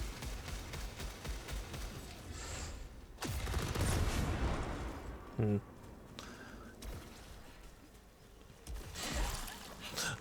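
Bursts of gunfire in the sci-fi shooter game Returnal, with rapid crackling shots and a denser volley midway, layered over game ambience and someone talking.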